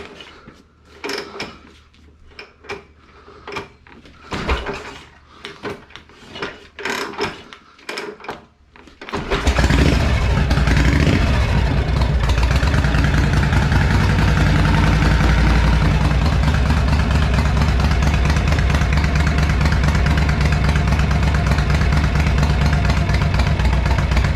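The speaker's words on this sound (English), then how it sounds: "let's see how many kicks this thing takes" A 1957 Harley-Davidson Panhead motorcycle with an old sporty tank: several irregular kickstart thumps and clunks, then the engine catches and settles into a loud, steady, rumbling idle that continues close by to the end.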